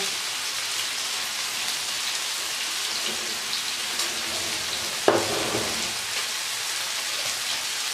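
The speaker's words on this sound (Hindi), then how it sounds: "अब हम मसालों की भुनाई करेंगे चिकन के साथ।" Chicken pieces fry on a hot tawa with salt, black pepper, red chilli and crushed dried coriander, giving a steady, close hiss like rain with a brief clatter of stirring midway.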